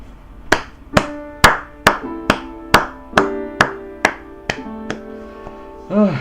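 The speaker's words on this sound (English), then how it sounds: "That's the sound of only me clapping in my room" A single person claps alone in a small room, about ten sharp, evenly spaced claps ringing close and loud, followed by a short vocal sound at the end.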